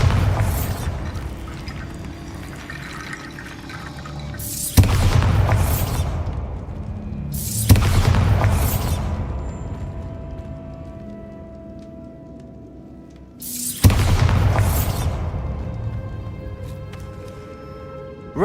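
Bombarda blasting spell cast in the Hogwarts Legacy video game, heard as three loud booming bursts spaced several seconds apart, each decaying into a long rumbling tail over a steady game ambience.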